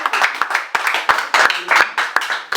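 A church congregation claps together in steady rhythmic beats for God, the loud claps repeating about every third of a second with crowd murmur behind.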